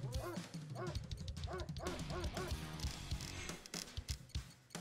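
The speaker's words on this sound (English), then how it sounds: "Let's get at least one more dog." Repeated rapid dog barks from the Command & Conquer Red Alert strategy game, a run of quick yips in the first half followed by busier game effects and noise.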